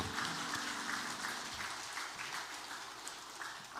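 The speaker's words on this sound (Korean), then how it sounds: "박수 한번 해주시죠." A church congregation applauding the Zion choir at a Sunday worship service: a soft, continuous hiss of many hands clapping, heard at a distance and steady for the whole stretch.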